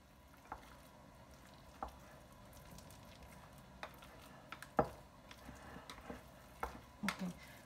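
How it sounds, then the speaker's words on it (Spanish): A spatula stirs arepa dough mixed with hot milk in a bowl, making quiet soft squishes and occasional sharp taps against the container, spaced irregularly over a low background. "con la espátula la revolvemos"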